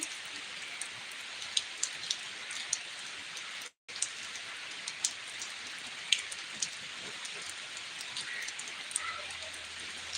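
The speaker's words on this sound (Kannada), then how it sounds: "ಜೋರಾಯಿತು ಮಳೆ" Steady heavy rain pours down with dense, continuous hiss and scattered sharper drop hits, briefly cutting out for a moment before resuming.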